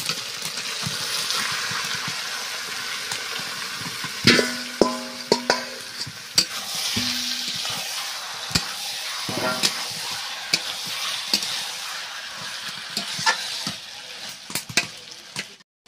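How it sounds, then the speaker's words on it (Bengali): Marinated chicken meat fries in hot oil in a pan, giving a constant close sizzle broken by clattering stirring strokes and utensil knocks, with brief metallic clinks; no talking. "এই যে মাখিয়ে রাখা মাংসটা এবার দিয়ে দিচ্ছি"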